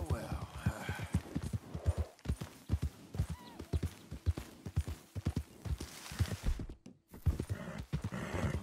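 Horse hooves clip-clopping in Red Dead Redemption, a close rhythmic trot of hoofbeats with a voice talking over it.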